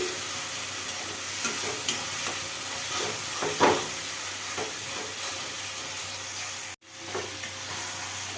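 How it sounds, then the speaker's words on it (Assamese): Chicken pieces frying and being stirred in a pan over already-fried spices, a steady close sizzle with repeated scraping stirs and a brief dropout near the end; no talking. "চিকেনখিনি ঢালা হৈ গৈছে, এতিয়া আকৌ চিকেনখিনি দি পেলাই ভালদৰে ভাজিব লাগিব।"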